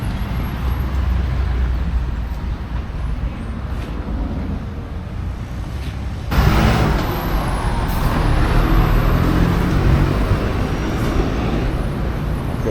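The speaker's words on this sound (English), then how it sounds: "That's the bus that I need." A city bus pulls up on a roadway in Cancún's hotel zone, its engine rumbling steadily before a sharp, loud burst of air-brake hiss midway, then continuing idle noise close by.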